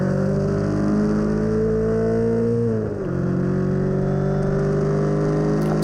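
On-board sound of a Mono 1600 single-seater race car at Silverstone, with a loud, continuous engine note climbing steadily, briefly dropping at a gear change and then rising again.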